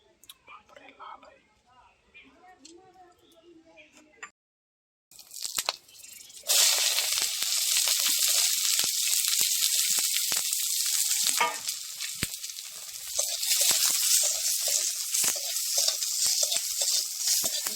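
Whole dried red chilies, cloves and cardamom hit hot oil and burst into loud sizzling that swells and crackles continuously, following a stretch of soft speech and a brief silence.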